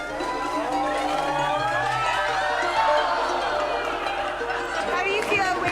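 A crowd cheers and whoops at a toy car race, its rising and falling voices forming a loud, continuous din with wailing, siren-like tones, while someone speaks over it.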